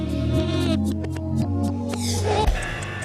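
A short stretch of pop music with sung vocals over a steady backing band, ending with a brief change in texture.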